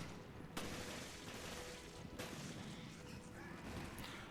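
Gunfire in the video game Resident Evil Revelations, with a dense wash of combat noise and a few sharper shots standing out above a steady background roar.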